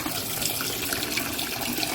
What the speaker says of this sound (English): I run that cold water back in there to bring that temperature down